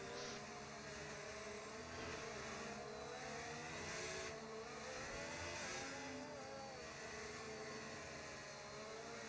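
Race cars in a racing video game circulate behind a safety car at the Bahrain circuit, giving a continuous, droning blend of engine whines at a steady, moderate level with no talk over it.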